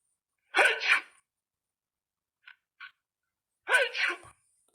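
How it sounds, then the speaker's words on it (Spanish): Two distinct human sneezes, each a sharp nasal burst with a quick double-peaked release, separated by a short quiet gap containing faint small clicks, close and isolated. "como el estornudar."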